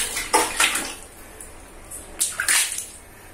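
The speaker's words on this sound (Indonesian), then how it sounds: "Kita bilas langsung." Water splashes onto a bathroom floor during rinsing, a few close bursts of splashing and pouring with quiet gaps between.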